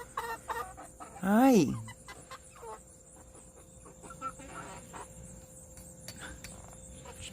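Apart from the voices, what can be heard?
chickens clucking and pecking at the tripod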